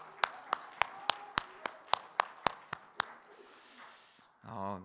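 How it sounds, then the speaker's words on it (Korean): Rhythmic, evenly spaced hand claps ring out in a church at a Friday worship service, about ten sharp beats. Then the clapping stops, leaving a faint hush and a brief tonal sound at the end. "우리 다시 한번 하나님께 영광의 박수 올려드릴까요?"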